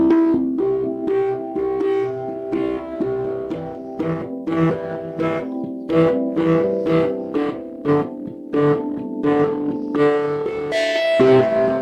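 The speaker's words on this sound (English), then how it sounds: "Distortion adds a lot of volume to the signal." A tongue drum plays a melodic run of struck notes, each one gritty and sustained through heavy distortion, building to a dense, buzzing finish.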